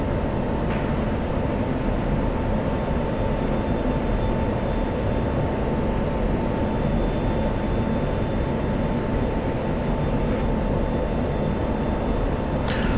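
A flight of two or three F-16 fighter jets flies past as a steady, unbroken roar of engine noise that holds at an even loudness throughout.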